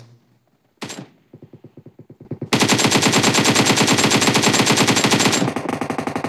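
PUBG Mobile gunfire: a single loud shot, a few spaced bursts, then a long sustained automatic burst that rattles loudly before easing off.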